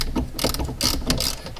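Ratchet wrench loosening a 10mm bolt on the positive battery terminal of a Dodge Hellcat, a quick close run of mechanical clicks and metal scrapes.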